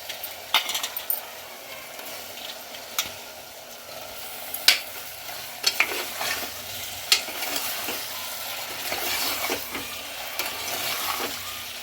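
Broad beans being stirred into a chicken curry in a frying pan, a steady soft sizzle under scraping spoon strokes and occasional sharp metallic clinks, close and fairly quiet, with no voices.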